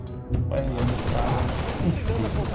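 Bursts of gunfire from the Halo Reach video game crackle in rapid fusillades over a dense mix of game noise, with a voice talking over the shooting.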